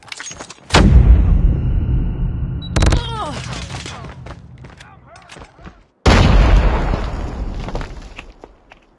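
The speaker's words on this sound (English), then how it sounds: "Grenade." A grenade explodes in Call of Duty: a sudden loud boom with a rumbling tail, among other sharp game blasts and gunfire, and a second heavy burst near the end.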